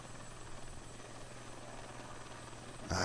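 A steady, droning helicopter rotor and engine hum from the flight game DreamFlight, constant and unbroken, with a louder burst right at the end.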